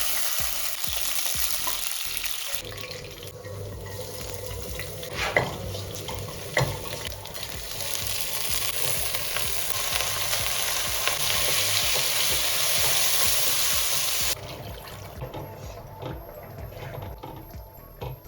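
Raisins sizzle and crackle as they fry in a hot pan for a long stretch, with occasional clinks and scraping of a utensil stirring.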